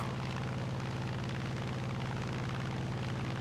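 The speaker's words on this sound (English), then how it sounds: "first let's get a pair of bombs off" A pair of bombs dropped from an aircraft in the War Thunder combat game, heard as a dense, continuous rumbling roar of explosions and engine drone, loud and sustained throughout.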